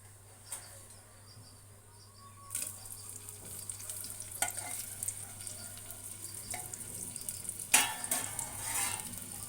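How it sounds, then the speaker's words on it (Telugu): Onions, dried red chillies and curry leaves fry in hot oil for tempering, a quiet hiss that swells after a brief lull into a steady, soft sizzle with faint crackles, heard close with no speech. "పప్పు గింజల తర్వాత ఉల్లిపాయలు పత్ ఎండుమిర్చి కరివేపాకు వేసుకుంటున్నాను"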